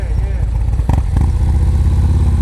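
Motorcycle engine running steadily during slow-speed riding practice, a low rumbling drone that picks up slightly as the clutch is let out, with a brief clatter near the start and voices talking over it.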